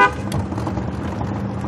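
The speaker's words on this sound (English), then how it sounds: "Horn works." A Triumph Spitfire's horn sounds in one brief honk at the start, loud and close, followed by a steady engine idle.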